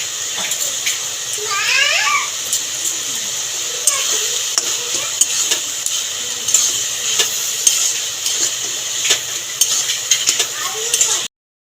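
A spoon stirs ash gourd and prawn curry in a pan, with scraping and soft wet sizzling over a steady hiss, close and moderately loud, with irregular knocks of the utensil throughout.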